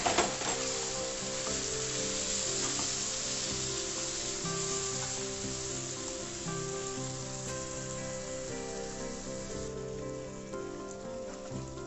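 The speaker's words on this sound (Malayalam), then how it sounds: "ഇതിലേക്ക് നമ്മൾ വെന്ത് വെച്ചിരിക്കുന്ന ബീഫ് ചേർക്കുക." Pre-cooked beef goes into a masala for Kerala-style curry and fries in the pan, giving a steady, dense sizzle like rain on a surface that runs on unbroken with faint stirring and no voices.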